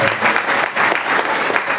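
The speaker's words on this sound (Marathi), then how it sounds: "जोरदार टाळ्या वाजवा" Loud applause for tabla and mridang players at a devotional gathering, dense rapid clapping from a crowd, close and vigorous throughout the short burst.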